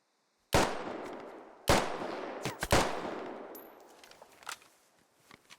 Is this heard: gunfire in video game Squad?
yes